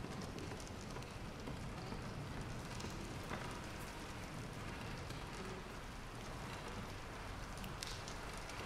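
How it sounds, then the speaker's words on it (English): Rain in the video game Bendy and the Dark Revival patters steadily on a surface at night in a dense, constant hiss, with scattered drops ticking throughout. "And it's raining."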